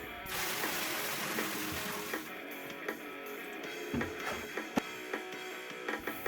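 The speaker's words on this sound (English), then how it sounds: "Let the water from the tank run through a strainer." Water gushing steadily out of a drained water heater tank through a strainer catching sediment, a constant rushing splash that thins out, with occasional clicks and knocks near the end.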